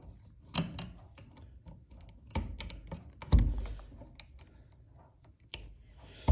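Electrical wire trimmed with cutters while installing a 20 amp tamper-resistant duplex outlet: a handful of sharp, close snips and clicks spaced irregularly, with a louder snap near the middle and another at the end.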